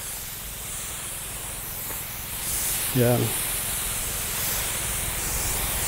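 A power sprayer hisses steadily and loudly as pesticide is sprayed on chili plants, a continuous close broadband spray, with a brief spoken word partway through.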